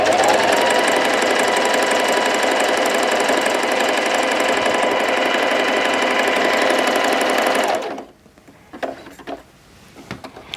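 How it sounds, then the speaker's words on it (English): A Bernette b05 Academy sewing machine stitches stretchy fabric in one loud, continuous run of fast mechanical chatter up close, stopping abruptly near the end, followed by a few quiet handling clicks. "The machine can handle sewing stretchy material as well."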